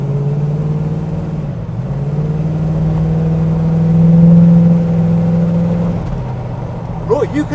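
A 1963 Studebaker Avanti with a light fiberglass body pulls hard on the road, its engine a steady loud drone that swells and rises, then drops back near the end.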